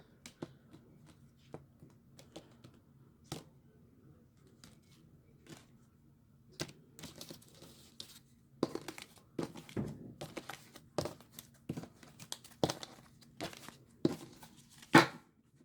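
A tarot card deck is cut and shuffled by hand, giving sparse soft taps at first, then denser bursts of card flicks, riffles and thumps close up against a quiet background.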